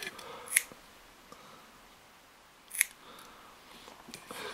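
MadBite fishing pliers chomp through material in two sharp, crisp snaps a couple of seconds apart, close and fairly quiet against a soft background hiss, with a faint third click near the end.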